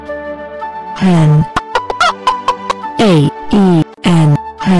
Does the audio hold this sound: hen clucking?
yes